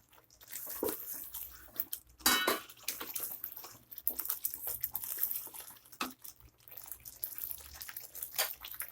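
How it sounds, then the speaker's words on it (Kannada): Peas are stirred into a simmering mushroom gravy in a pot, with scattered spoon scrapes and clinks against the metal and faint bubbling between them. "ಈಗ ಬಟಾಣಿ ಮಿಕ್ಸ್ ಮಾಡ್ಕೊತಾ ಇದ್ದೀನಿ."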